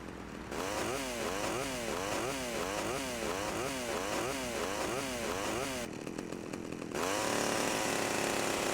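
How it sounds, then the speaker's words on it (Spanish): A chainsaw attack in GTA Vice City Definitive Edition: a revving saw rises and falls in a steady repeating sawtooth rhythm for several seconds, then pauses briefly before a continuous high whine. "También pasa con la motosierra, al movernos mientras mantenemos pulsado el botón para atacar."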